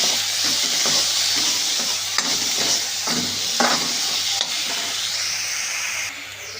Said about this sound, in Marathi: आता यामध्ये आपण टोमॅटो घालूया आता हे छान परतून घेऊया